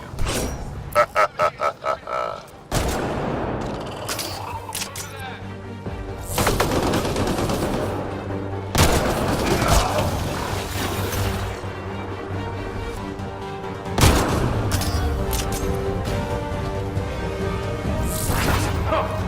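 Gunfire in the video game Mass Effect Andromeda, opening with a rapid burst of loud separate shots followed by long sustained automatic fire and crashes under game music, with brief voice lines.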